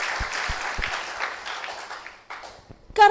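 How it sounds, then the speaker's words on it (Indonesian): A church congregation claps together in a brief burst of applause that fades out over a couple of seconds, followed by a short stretch of quiet and then a fresh sound at the very end. "Kalau kita mau tepuk tangan, mari kita tepuk tangan pada Tuhan Yesus."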